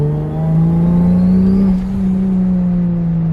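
Turbocharged Toyota Supra fitted with an inexpensive Chinese 3540 turbo, engine droning steadily and rising in pitch as it accelerates, heard from inside the car during a ride-along, loud and sustained with no talk.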